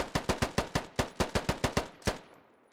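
Rapid semi-automatic gunfire from the video game Squad, about a dozen sharp shots fired in quick irregular succession, loud and close, with a short echoing tail after the last shot.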